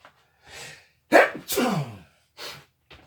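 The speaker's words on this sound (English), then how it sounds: "Excuse me, sorry, I had to sneeze." A sharp inhale builds into a loud, close sneeze, followed by a few quieter breaths and sniffs.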